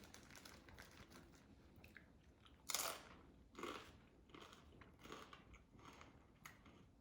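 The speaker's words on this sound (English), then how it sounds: "What's that sound? A crunch, so it must be crunchy." Someone bites into a smashed, creamy legume dip with crunchy bits, giving a few soft, close crunches with two clearer bites in the middle, all quiet and without talk.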